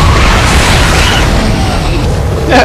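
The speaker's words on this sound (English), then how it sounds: "Blast him with the chest launchers." A chest launcher blast in the Pacific Rim Jaeger combat video game: a loud, sustained booming roar of explosive rumble that fills the whole moment, with a fresh burst swelling up at the very end.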